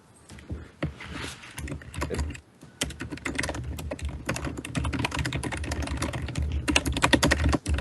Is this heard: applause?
no